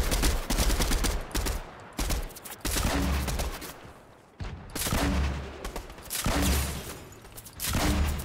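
Video game gunfire aimed at IOs, rapid sustained bursts of automatic shooting broken by short pauses, loud and close, with dense repeated shots and deep low rumble through each volley.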